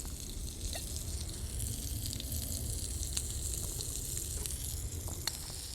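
Bacon frying in oil in a pan over an outdoor bushcraft fire, a steady crackling sizzle with scattered pops, moderately close.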